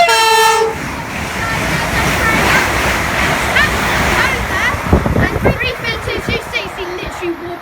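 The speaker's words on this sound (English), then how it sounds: "350 literally wobbling the electric lines as it whizzes past bound for London Great Euston." A London Northwestern Railway class 350 electric train bound for London Euston whizzes past on the West Coast Main Line at Kings Langley. A brief horn toot opens the pass, then a loud rushing roar with rattling wheel clacks as it goes by.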